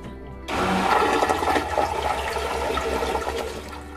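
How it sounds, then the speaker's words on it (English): An electric Jabsco freshwater macerating marine toilet aboard a 2006 Hunter 46LE sailboat flushes: a sudden loud pump-and-water rush starts after a brief quiet moment, with a steady motor hum beneath churning water that continues to the end. "The toilet itself is an electric Jabsco freshwater macerating head."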